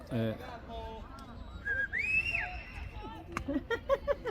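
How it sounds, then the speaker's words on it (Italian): A whistle sounds at a youth U13 baseball game in Tenerife, a short rising tone rising out of distant crowd chatter, with people talking around it. "Ho sentito un fischio."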